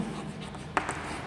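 Chalk or marker scratches across a board in a few short, sharp strokes during a circulatory system lesson, close and fairly faint over room noise.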